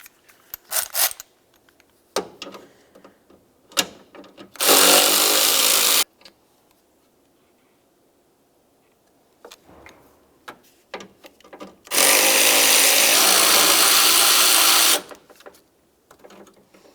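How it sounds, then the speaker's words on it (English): Ten-millimetre hood latch bolts on a 2000-2005 Buick LeSabre are removed with a ratcheting tool, giving scattered clicks and clanks and two loud sustained bursts of power-tool whirring, each lasting a few seconds. "Let's remove that last bolt."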